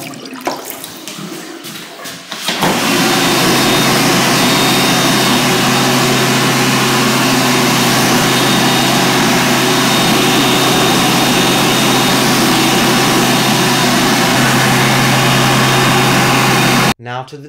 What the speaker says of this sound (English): An automatic hand dryer getting replaced with a push button one.